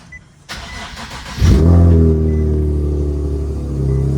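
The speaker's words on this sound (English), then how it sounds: "Let's get this cold start." A car engine cold-starts at a street car meet: brief starter cranking, then a loud catch into a steady, rumbling idle with rich low harmonics that settles but stays strong, close by with no talk.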